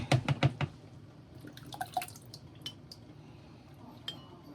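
Roasted garlic poured from a container into tomato paste while making veggie spaghetti, a quick burst of close clinks and scrapes followed by soft wet plops and faint clatter, fairly quiet.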